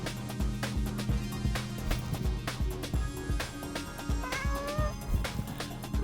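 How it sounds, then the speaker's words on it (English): A cartoon cat meows in the video game Schrodinger's Cat Burglar, several short mews over a busy, rhythmic game soundtrack with regular beats. "There's a meow button."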